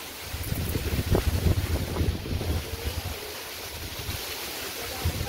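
Wind blows hard across the microphone in an irrigated farm field, a rumbling, buffeting roar that swells and eases throughout, with no voices.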